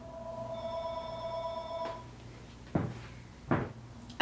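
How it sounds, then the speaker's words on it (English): A telephone rings with a sustained electronic tone for about two seconds, followed by a couple of loud knocking thumps nearby, in a quiet room. "I have to tell you about an annoying phone call that just interrupted me."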